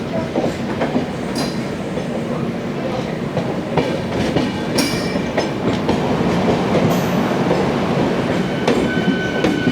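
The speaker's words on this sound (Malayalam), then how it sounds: "ഇപ്പുറത്ത് കൂടെ നമ്മുടെ കോയമ്പത്തൂർ ഷൊർണൂർ മെമു കയറി വരുന്നു" A Coimbatore–Shoranur MEMU train runs past on the adjacent line near the Palakkad route, a loud close rumble with rhythmic wheel clatter and brief metallic squeals throughout.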